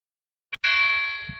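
A single bell strike like a church bell: a short tap, then a loud clear ringing tone that sustains and slowly fades, close and alone.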